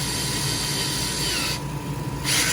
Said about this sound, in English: just drill through the rivet